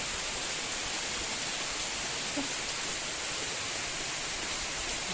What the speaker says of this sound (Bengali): বৃষ্টিটা নামলো